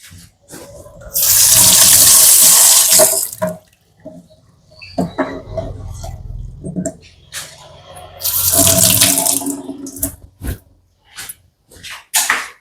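Tap water runs into a sink in two loud bursts of a few seconds each while something is washed in a home kitchen during Onam cooking, with quieter clattering and handling sounds in between.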